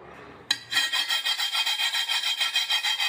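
A screwdriver scrapes hard and repeatedly across a cheap wood-look tile: a sudden start, then a quick, even rhythm of rough rasping strokes, loud and close, with no voices.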